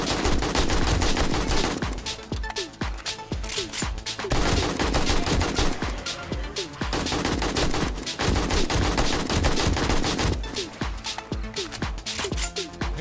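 Rapid bursts of gunfire in the survival game 7 Days To Die, dense and loud, with repeated volleys across the whole stretch and brief dips between them, close and continuous.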